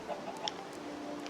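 Minecraft chicken clucking in short, faint bursts over a steady game background hum, with a few brief higher chirps scattered across the moment.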